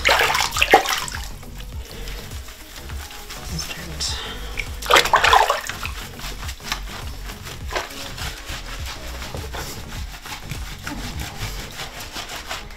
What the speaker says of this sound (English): I'm just gonna rinse them off by using this little bowl.